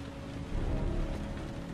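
Rain pours steadily in the Heavy Rain video game, a soft, dense wash of falling water that continues without a break, quiet and even, with a faint low rumble beneath it.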